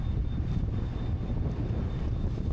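Strong wind at sea, gusting 20 to 25 knots, buffets a sailboat in a heavy, continuous low rumble of wind noise on the microphone, loud and close, with no talking.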